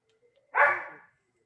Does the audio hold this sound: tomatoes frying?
no